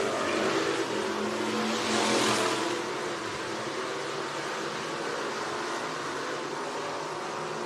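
Topless bomber race car engines roar past at Penton Raceway, one swelling loudly then fading into a steady, distant engine drone.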